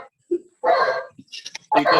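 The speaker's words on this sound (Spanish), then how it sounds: "El perrito." A small dog barks a few sharp, close yaps during a classroom lecture, with short gaps between the barks.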